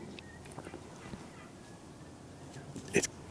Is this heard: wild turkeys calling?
yes